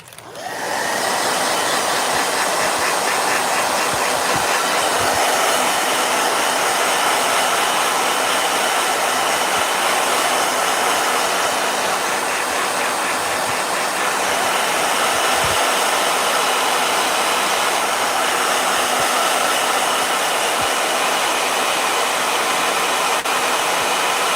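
A blow dryer running nonstop at full power, a loud, close, steady whooshing roar that starts abruptly and holds for the whole stretch with no voices.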